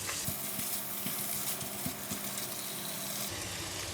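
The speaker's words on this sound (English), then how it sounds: "Give it a stir." Minced pork stir-frying in a hot pan with onion oil makes a fairly quiet, continuous sizzle, broken by repeated scraping knocks of a utensil against the pan at irregular intervals.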